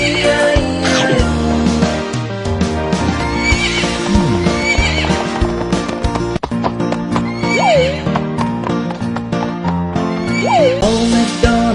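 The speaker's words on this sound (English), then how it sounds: "And on that farm he had a horse." Horse neighs in a children's farm song: several whinnies with rising and falling pitch sound over busy clip-clop hooves and a bright musical backing, loud and close.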